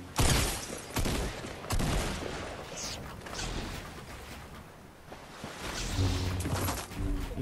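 Bursts of gunfire rattle in Fortnite gameplay, loud rapid volleys with whooshing effects filling the mix while a player talks over the action.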